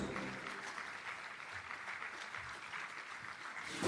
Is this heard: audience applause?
yes